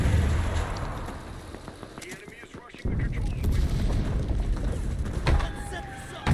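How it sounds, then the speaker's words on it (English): Shotgun blasts in the video game Alecto 1, heavy booming shots that repeat irregularly over a noisy background with a brief lull before firing resumes, and voices are faintly present. "Oh, shotguns. Let's go shotgun,"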